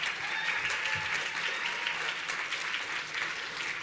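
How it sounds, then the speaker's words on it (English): Short burst of audience applause for an honoree at an education awards ceremony, moderately faint and steady for a few seconds. "Another round of applause for Mark."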